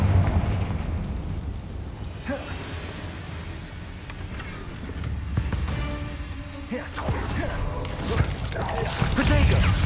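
Fire-blast spell explosions from Hogwarts Legacy, loud rumbling booms and bursts layered over dense combat noise, with several sharp impacts throughout and a voice briefly heard.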